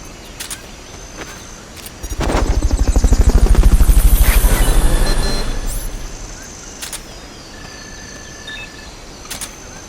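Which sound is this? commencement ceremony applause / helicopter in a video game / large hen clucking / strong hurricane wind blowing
helicopter in a video game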